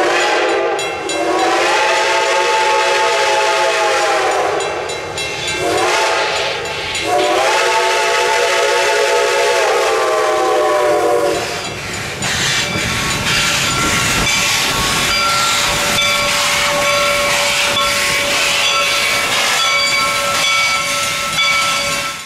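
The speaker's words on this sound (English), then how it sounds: "I had been wanting to see the Light Pacific Type 462 steam locomotive for years" Reading & Northern 425, a Light Pacific 4-6-2 steam locomotive, running tender first, sounds several loud, drawn-out whistle blasts, then gives way to a hissing rush of steam and the heavy rumble of the engine close by.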